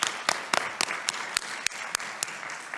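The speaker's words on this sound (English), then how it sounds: "So let's all give all ourselves a round of applause" Audience at a briefing event clapping together: a thin, moderate round of applause with distinct sharp claps spread over a few seconds, fairly distant and alone without talk.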